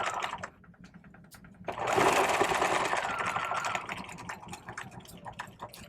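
Sewing machine stitching the lining fabric of a vest bag, starting after a quiet moment and then running steadily and close for several seconds with a light clatter.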